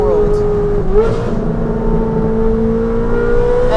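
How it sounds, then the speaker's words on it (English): Straight-piped Ferrari 458 with test pipes downshifting, a loud, raspy engine note close by, blipping and then settling into a steady high drone. "Downshifts are absolutely out of this world."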